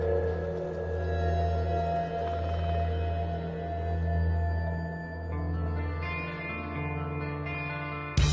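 Wind blowing through the Sound Garden sculptures in Seattle, steel towers fitted with organ pipes, producing steady eerie drones and sustained tones that swell and shift slowly without voices.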